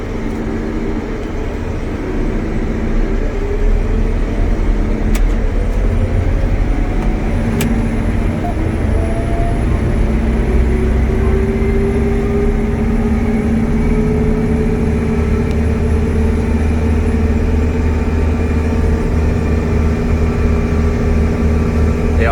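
A John Deere 9620Rx tractor accelerates on a road, its engine a loud, steady droning roar from inside the cab, with the pitch slowly climbing as speed builds.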